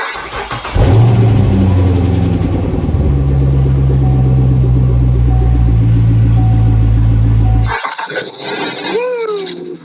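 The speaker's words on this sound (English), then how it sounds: "See if I can remember how to start one of these Corvettes." A 2005 Corvette convertible sitting unstarted for four months cranks briefly, then its engine catches and roars into a loud, steady idle with a rev, before cutting off near the end.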